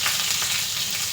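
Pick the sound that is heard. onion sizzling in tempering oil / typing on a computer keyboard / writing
onion sizzling in tempering oil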